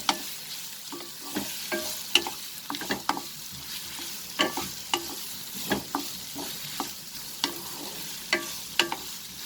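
Onions for prawn masala fry in a pan under a soft steady sizzle, broken by repeated sharp scrapes and knocks of a spatula stirring them at a loose, regular rhythm.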